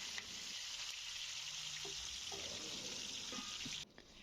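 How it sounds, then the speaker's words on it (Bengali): Pieces of katla fish fry in a pan with a steady, close, even sizzling hiss and a few light pops. The sizzle stops abruptly near the end, leaving near silence, and no one speaks. "আমাদের মাছ ভাজা হয়ে গেছে,"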